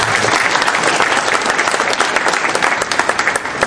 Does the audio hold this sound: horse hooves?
no